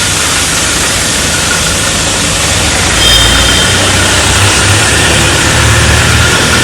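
A Canton QBIS ice machine running in a factory testing area, a loud, constant broadband whoosh with a low motor hum underneath, rising slightly midway and staying steady throughout.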